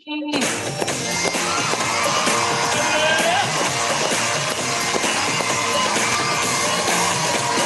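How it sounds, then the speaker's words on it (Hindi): Large seminar crowd roaring with loud cheering, yelling and applause for a speaker, a dense continuous wall of sound from start to finish. "मैं चाहता हूं अभिषेक जी के लिए आज के इतने बढ़िया शानदार सुपर डुपर हिट सेशन के लिए जोरदार तालियां हो जाए दिल से।"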